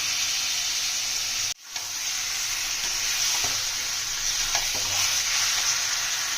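Chicken pieces and yogurt tipped into fried masala for a Bengali chicken kosha, sizzling loudly and continuously while being stirred, with a brief dip in the noise early on and soft scraping throughout.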